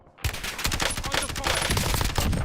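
Rapid bursts of automatic gunfire in a battle-royale style video game, loud and dense after a short quiet start, with overlapping shots crackling continuously to the end.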